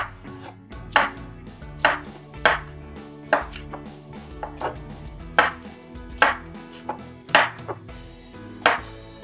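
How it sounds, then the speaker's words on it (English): A knife slices vegetables into quarter-inch slices on a cutting board for sheet pan sausage and peppers, a series of crisp, close chops in an uneven rhythm, roughly a dozen strokes with no talking. "We're gonna cut these in slices. Probably about 1/4-inch slices."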